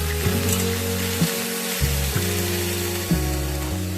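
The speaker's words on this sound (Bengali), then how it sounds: "এক চামচ লবণ দিয়ে কিন্তু আমি ভেজে নিচ্ছি" Taro (gathi kachu) frying in oil with salt gives a steady close sizzle over a low humming drone, with a few soft stirring knocks and no voices.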